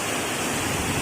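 Devkund waterfall in Odisha during the monsoon, a steady, dense roar of rushing water filling the whole moment, loud and close with no voices.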